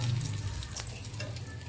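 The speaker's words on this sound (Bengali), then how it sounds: "বাকি তালের শাঁসগুলি এভাবে ভেজে নেব" Palm fruit kernels fry in hot oil with a steady soft sizzle that stays even, close and moderately loud.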